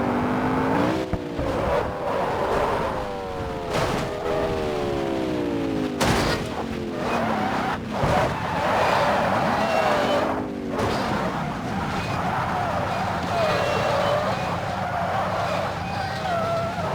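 A Lamborghini Urus drives in the BeamNG Drive game, its engine note climbing and dropping through repeated gear shifts at high speed, loud and close, with sharp bangs and a rushing roar throughout.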